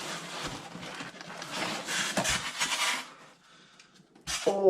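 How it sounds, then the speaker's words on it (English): Polystyrene packaging handled while unboxing an old HUA PENG King Hauler 1:14 RC semi truck, giving close, loud squeaky rubbing and crinkling for about three seconds, then a quieter stretch and a final sharp squeak. "Sorry for the polystyrene noise to anybody that may have issues with that."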